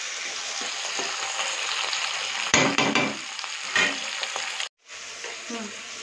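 Garlic, green chilli, capsicum and tomato sizzle steadily in a pan as they are stir-fried and mixed, with a few sharper scraping clatters midway and a brief silent cut near the end.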